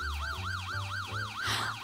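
An emergency vehicle siren wails in loud, rapid rising-and-falling cycles with a low engine rumble underneath, heard close and without talk.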